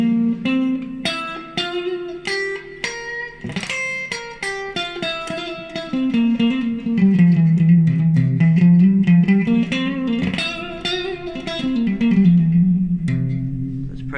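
A solo guitar plays a slow melodic run up and down the Indian scale in C, single notes ringing with light sustain, no voices.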